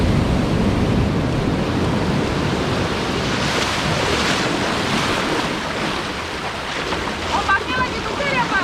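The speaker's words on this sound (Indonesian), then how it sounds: "Ombaknya lagi besar ya Pak?" Surf breaks steadily on a beach at Pelabuhan Ratu, a broad continuous wash of waves with wind noise on the microphone and faint voices talking nearby.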